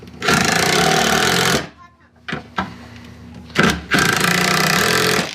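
A power drill drives screws into a wooden sawhorse leg built with an I-beam, two long loud whirring bursts with short clicks and trigger blips between them.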